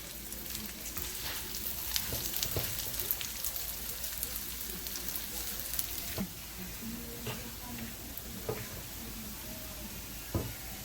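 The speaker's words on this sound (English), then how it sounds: "Right now what I'm doing is frying it" Steady crackling sizzle of rice frying in hot oil for Guyanese-style shrimp and sausage fried rice, dense and continuous, with occasional louder pops and stirring knocks throughout.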